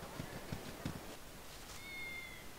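Cats meowing in the fantasy role-playing game Baldur's Gate: a few short, faint mews close together near the start, followed by a thin drawn-out tone over quiet background ambience.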